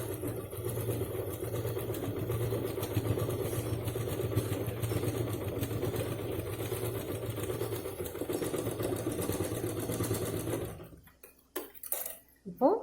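Sewing machine stitching cloth for a homemade purse, a steady, continuous close whirring clatter lasting about eleven seconds before it stops, followed by a few brief handling knocks.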